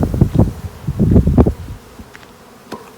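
Honey bees in a shipped package buzz in a dense, close, rising-and-falling drone over the first couple of seconds, then fade to a quieter hum with a few faint rustles.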